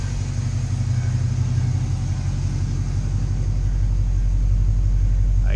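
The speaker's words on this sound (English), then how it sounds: "Seems to be running alright." A CF Bedford van engine runs steadily nearby, a deep rumbling idle with a constant low throb that holds level throughout, no voices.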